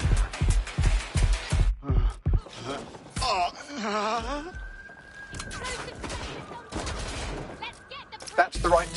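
Gunfire in the video game Watch Dogs Legion: a string of loud, evenly spaced shots opens, then scattered reports, a sustained electronic whine and voices weave through the busy mix.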